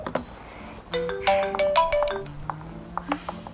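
A phone ringtone sounding for an incoming call, a short bright melodic tune of repeated tones, close and clear with no talk over it.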